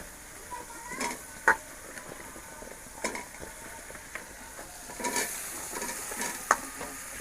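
Taro and potato pieces are added to a spice paste in a pan for a koi fish curry. A low sizzle runs beneath several scraping stirring strokes and clinks, with little talk.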